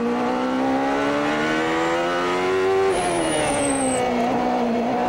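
A 1993 CART race car engine at Portland holds a high, steady whine under throttle, with a brief pitch change and squeal as it lifts and reapplies power, loud and continuous throughout.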